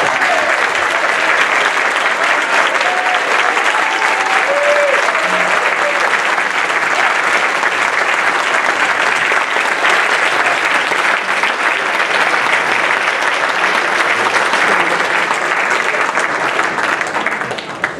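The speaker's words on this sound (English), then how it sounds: "And let's give her a little applause." Sustained applause from a church audience during an MLK 2018 service, steady and full for the whole stretch, with a few faint voices and calls rising through the dense clapping.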